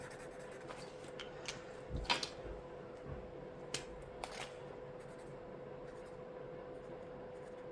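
A colored pencil in the lightest shade rubbed over paper while coloring a jellyfish drawing, faint scratchy strokes with a few soft taps over a quiet steady hum.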